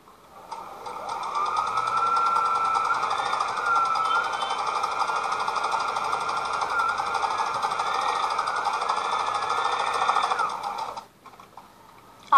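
A Parson brother sewing machine stitches in one continuous, fast, steady whirring drone lasting about ten seconds, loud and close, then stops abruptly.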